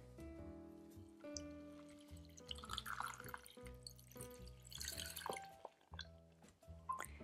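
Water pours and drips in a soft liquid trickle beneath steady background music.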